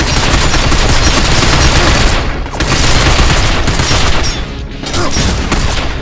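Sustained machine gun fire in the video game Binary Domain, a loud, dense, continuous roar of automatic shots that dips briefly twice before resuming.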